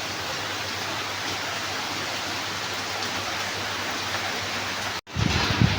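Steady, even rainfall hisses continuously, with a brief cut and a low rumble near the end.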